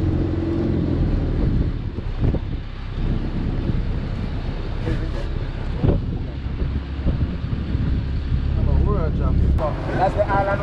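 A boat crossing to Pinel Island off Saint Martin rumbles along with engine drone, wind buffeting and water splashes, while people talk over the noise.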